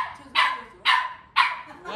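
A dog barks three times in steady, evenly spaced bursts, loud and close, with a fourth bark starting at the end and no talk over it.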